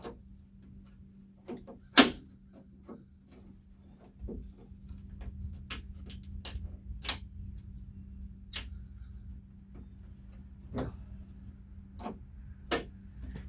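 Sharp metallic clicks and clacks come from work on a Jeep door latch, sparse, irregular and close, with one louder knock near the start, over a faint steady hum.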